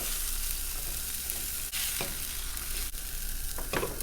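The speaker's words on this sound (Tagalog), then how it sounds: "Habang kumukulo, tikman nyo na" Steady broadband sizzling and bubbling from a hot pan of sauce with ground meat, eggplant and green beans, continuous and close, with a few faint utensil clicks; no voices.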